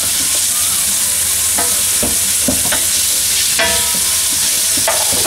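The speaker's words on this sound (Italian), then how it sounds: "e lo fate rosolare bene con lo scalogno" Rabbit meat browning over low heat in a pan with shallot and rosemary, a steady loud sizzle with several stirs and scrapes, no talking.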